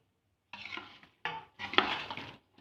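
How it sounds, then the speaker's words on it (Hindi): A spoon stirs ground mustard seed, fennel and fenugreek in a metal pan for pickle in three short scraping bursts separated by brief pauses, close by and without talk. "अब इसको अच्छे से चलाएंगे गैस पे से उतार के।"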